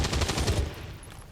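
A quick burst of automatic gunfire in XCOM 2, several rapid shots rattling for about half a second before fading into a short tail, loud and close with no talk.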